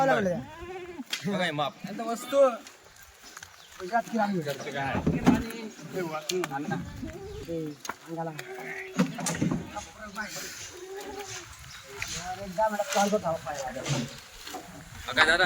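Kathiawadi goats bleat in quavering calls at intervals amid lively conversation, with the animals close by and partly covered by the talking voices.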